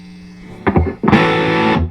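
Electric guitar through a Blackout Effectors Twosome pedal with its tone control engaged: a short picked note, a brief gap, then a loud sustained distorted chord ringing alone.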